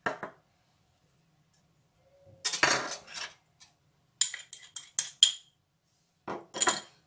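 Cheese pastry ingredients, including yeast and egg, are stirred in a bowl: short bursts of clattering, scraping utensil strokes separated by silent pauses.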